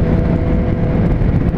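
A Triumph Street Triple S 660 motorcycle in A2-restricted form, ridden in second gear below 8000 rpm, gives a continuous loud, steady engine drone with constant rumbling and no pauses.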